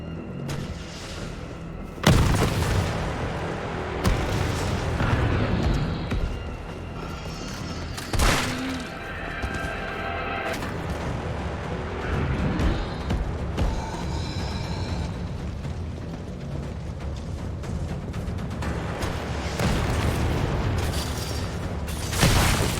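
Rocket launcher blasts in Resident Evil 3 Remake, several heavy booming explosions spread across a dense, loud game soundscape of rumbling mechanical noise and debris.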